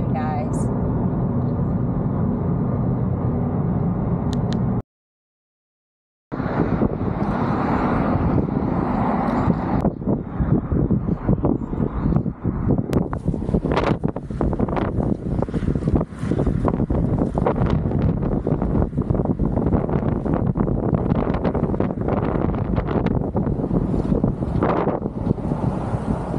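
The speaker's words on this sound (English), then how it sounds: "Pretty windy out here on the bridge." Strong wind on a bridge in the Florida Keys roaring and buffeting the microphone almost continuously, with a brief silent gap early on and gusty low rumble throughout.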